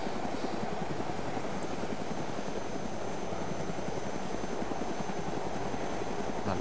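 A helicopter in the survival video game DayZ on the Namalsk map flies with a continuous thudding rotor chop and engine roar, steady and fairly loud, alone without voices.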